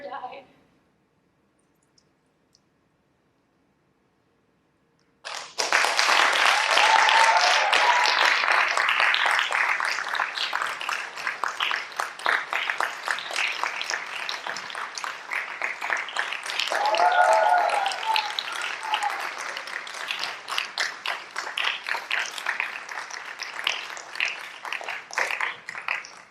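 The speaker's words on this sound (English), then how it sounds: "you know that I'm grateful for your applause." A theatre audience at a stage production bursts into sustained, dense applause after a few seconds of near silence, continuing strongly with some rises and dips for over twenty seconds.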